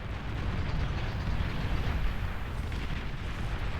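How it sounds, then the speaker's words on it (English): Dense, continuous rumbling explosions from a bombing run in the real-time strategy game Beyond All Reason, steady and loud with overlapping booms and no pauses. "And have another bombing run coming in."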